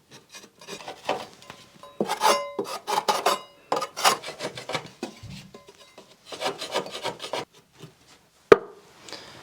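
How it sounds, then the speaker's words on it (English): Chisel and scraper working material off old wood during a coach house restoration: bursts of close, dry scraping and rasping strokes in uneven runs, with brief pauses and one sharp knock near the end. "I'm going to get a chisel and see if it comes off easily."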